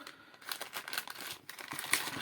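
A thin plastic packaging bag from a bike light being handled, giving close, loud crinkling and rustling in irregular bursts throughout, with no talking.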